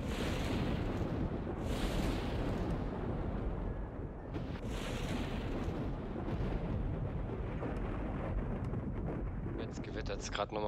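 A Minecraft thunderstorm rolls on, a continuous loud, dense rumble filling the whole stretch, with brief brighter cracks near the start and a rattling flutter toward the end.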